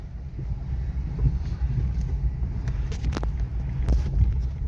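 A Ford Scorpio on a slippery road heading to a fuel station gives off a low, steady engine and road rumble from inside the cabin, with faint wind hiss and a few light rattles.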